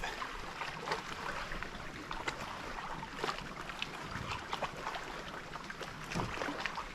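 A canoe is paddled across a windy lake bay, with soft water swishes and splashes from the strokes close by, under steady wind buffeting and no talk.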